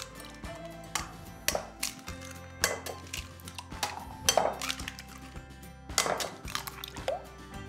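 Eggs and egg yolks being cracked and dropped into a bowl for a pastry filling, with repeated clinks and knocks of shell and dish against the bowl, close by and irregular, with no talk.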